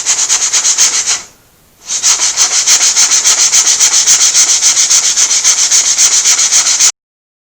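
A DIY kit guitar body is sanded by hand in fast, even back-and-forth strokes, loud and close, with one short pause near the start before the rhythmic rasping resumes and runs steadily until it stops.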